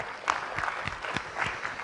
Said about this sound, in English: We give all of the staff a round of applause.